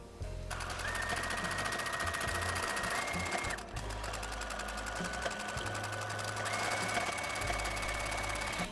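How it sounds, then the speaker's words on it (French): A sewing machine stitches a fabric door draft stopper: a steady, close mechanical whir with a rapid needle rattle, briefly pausing mid-run and then carrying on continuously. "Je vais coudre une fois et la deuxième tout en suivant le trait et mes épingles."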